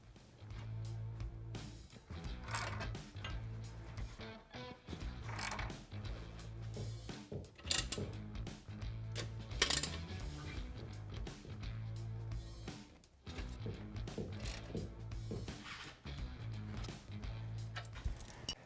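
Ratchet tightening the bolts of a Tusk SubZero snow plow mount on a Yamaha Wolverine RMAX 1000, with M10 nuts. Steady mechanical clicking and clattering bursts repeat through the clip at moderate level, with short pauses between runs of work and no talk.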